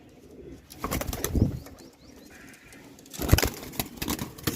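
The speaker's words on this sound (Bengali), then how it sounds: "খুব ছটপট করে নতুন খাঁচা দেখলে পায়রা চট করে ভিডিও আসতে দেয় না" Kalsera Andhra pigeons, male and female, startle in an unfamiliar new cage, making two bursts of close, loud wing flapping with faint cooing between them.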